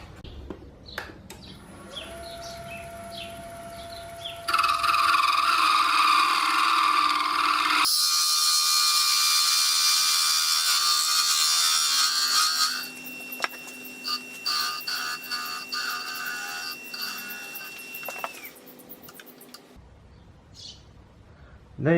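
Wood lathe parting off a small turned cufflink piece, a high whine and scraping hiss of the tool cutting that swells loudly mid-stretch, then eases into lighter, intermittent cutting before falling silent.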